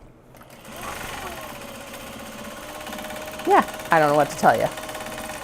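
A sewing machine runs steadily while sewing small box bags, giving a continuous whirring hum that carries on throughout, with a person briefly talking near the end.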